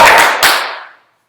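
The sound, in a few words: applause and cheering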